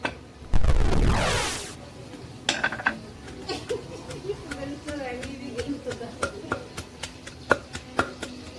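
Ginger being pounded for cooking in a home kitchen: a dense burst of clatter, then a steady run of sharp, irregular thuds and knocks close by, with people talking faintly in the background.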